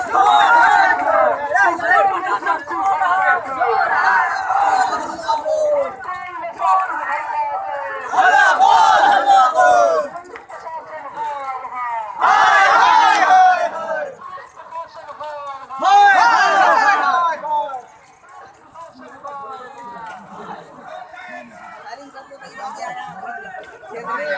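Villagers led by MSU march to surround a police station in Rudrapur in June 2019, chanting protest slogans together in loud repeated bursts, with crowd chatter and shouting filling the gaps between chants.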